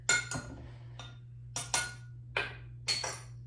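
A spoon clinks against the side of a glass in several quick, bright taps while stirring drink mix into cold water, with a low steady hum underneath.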